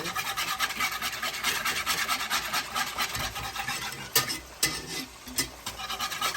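A metal whisk scrapes and stirs in a nonstick pan while cooking salt and pepper shrimp, a steady close rasping with a few sharper knocks near the end, heard alone.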